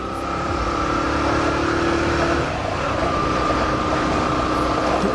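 A small motorcycle rides along a city street toward a main avenue, its engine a steady close drone with road and wind noise throughout and a brief tonal whine early on.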